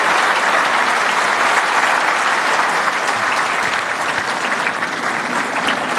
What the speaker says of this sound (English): Can we have a round of applause for Joshua?